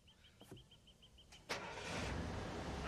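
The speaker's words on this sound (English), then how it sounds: "Take it easy on the truck!" A truck engine cranks with a short series of rapid ticking pulses, then catches and roars into a rough, loud idle that continues steadily.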